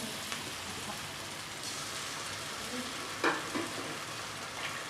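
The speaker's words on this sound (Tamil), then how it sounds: "கடுகு வெங்காயம் போட்டு வதங்கிக்கிட்டு இருக்கு" Mustard seeds and onion sauté in a pan for a green banana stir-fry, giving a steady close sizzle throughout with a few brief louder crackles and pops partway through.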